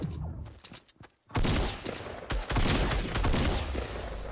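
Gunfire in the Fortnite video game, a dense burst of shots and loud noisy blasts after a brief quiet gap, with no talking.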